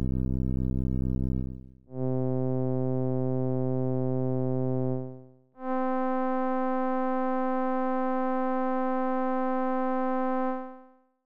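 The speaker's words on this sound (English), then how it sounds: "The third one is more like a sawtooth sound, but it seems having too much modulation." An FM synthesizer plays a sustained buzzy sawtooth-like tone in three held notes, the later ones brighter and rich in harmonics with heavy modulation, clean and steady with no talk.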